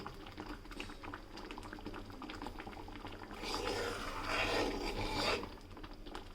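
Thick homemade tomato puree simmers and bubbles in a pan, giving a steady, soft boiling sound that rises to a fuller, louder patch in the middle before settling again, with no one talking.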